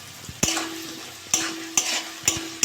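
A spatula scrapes through turmeric, peas and dry chillies frying in a wok for potato and cabbage chochori: four or five sharp stirring strokes over a faint, steady sizzle, close by.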